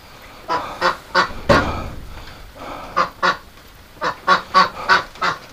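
Ducks kept in a straw-bedded winter pen quack loudly and close by in repeated short bursts, a cluster early on, then a steady run of honking quacks toward the end, with no talking.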